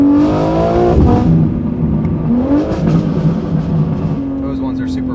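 A BMW G80 M3 fitted with a Valvetronic midpipe roars under full throttle, rising in pitch, dropping at a shift, then climbing again, loud and close with some talk over it.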